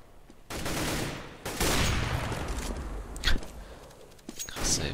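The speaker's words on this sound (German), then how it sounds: "Fries mit seinem fünften Schuss in Folge, in der er den getroffen hat." Gunfire from a professional Counter-Strike match on de_dust, fnatic versus VeryGames, with bursts of rapid shots and sharp single cracks in broad crowded noise, fairly loud with faint talk underneath.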